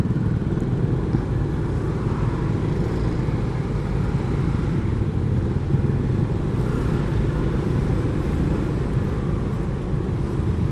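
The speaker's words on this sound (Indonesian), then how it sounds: "Nah ini macet lagi di sini, sudah pasti macet." Congested road traffic in Karawang, Indonesia, with motorcycles and cars idling and creeping in a jam, heard as a steady, dense engine rumble and hum close by without talking.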